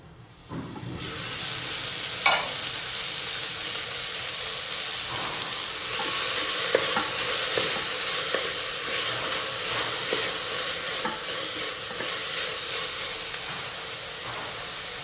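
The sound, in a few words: sautéing and stirring green peas in rice cooker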